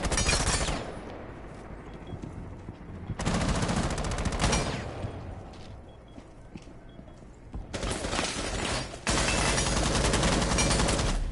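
Rapid automatic gunfire in a competitive Rainbow Six Siege match, loud and dense sustained bursts broken by brief pauses, with faint commentary underneath.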